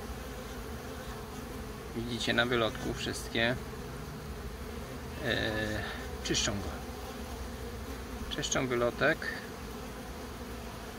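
Honey bees crowding and cleaning the hive entrance, a steady low buzz throughout with someone speaking in short phrases over it.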